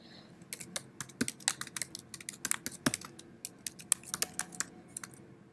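Typing on a computer keyboard while building an analytics chart, with irregular bursts of crisp key clicks, close and fairly quiet, and no talk.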